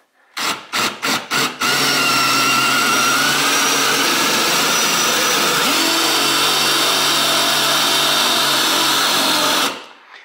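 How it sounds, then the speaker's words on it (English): A power drill drilling into pallet wood starts with a few short bursts, then runs steadily and loudly for several seconds before winding down. "And I'm gonna start drilling, and I'm not gonna go too hard."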